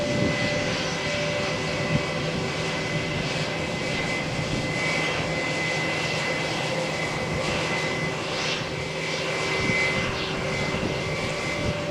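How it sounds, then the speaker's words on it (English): Wizz Air Airbus A321-271NX airliner at Malaga Airport on a stormy morning, a loud sustained engine roar with a steady whine, continuous and fairly close with no break. "Wizz Air flight from Malaga to Budapest, Airbus A321 271NX"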